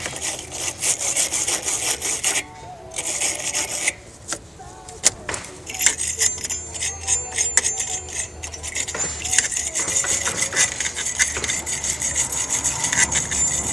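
Stiff brush scrubbing car battery terminal connectors clean, a steady close rasping scrape with brief pauses and a light metallic jangle.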